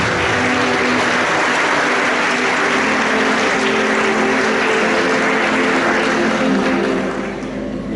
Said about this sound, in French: ça mérite un tonnerre d'applaudissements de votre part